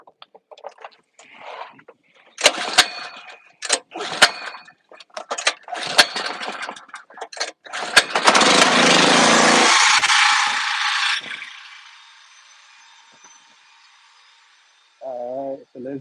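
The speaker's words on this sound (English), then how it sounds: "Generator." A generator given several sharp, rattling start attempts, then catching into a loud, steady engine drone that runs for a few seconds before winding down, with a voice briefly heard at the end.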